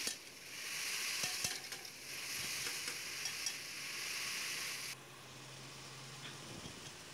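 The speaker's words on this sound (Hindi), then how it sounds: "ये देखिए दोस्तों, घिया हमारा भुन चुका है" Chopped bottle gourd fries in a pan with a steady, broad sizzle, scraped by a spoon a few times early on; the hiss drops sharply partway through, leaving a quieter, lower simmer with no voices.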